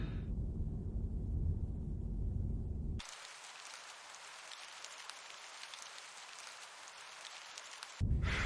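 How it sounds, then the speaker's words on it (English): Steady rainfall in a video game set in England, a dense hiss that starts as a low heavy downpour and then shifts to a brighter, thinner patter of drops before the heavier sound returns at the end, with no voices. "Why does it always rain in England?"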